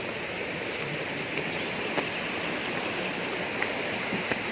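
Steady broadband rush of the Karura River flowing through Karura Forest in Kenya, a continuous close stream wash with faint splashes and no voices.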